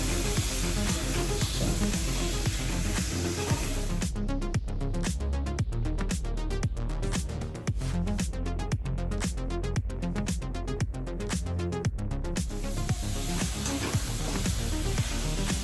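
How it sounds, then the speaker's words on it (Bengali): Boiled pork pieces being fried with spices for a pork curry, giving a loud, steady broadband sizzle throughout, with a stretch of rapid, rhythmic stirring strokes in the middle. "এবার আমি মশলার সাথে ভালো করে মাংসটা কষাবো।"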